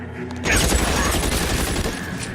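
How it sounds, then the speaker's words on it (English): Sustained volley of gunfire in the video game L.A. Noire, a dense burst of loud shots starting abruptly and continuing without pause, with a voice faintly mixed underneath. "That guy taking shots."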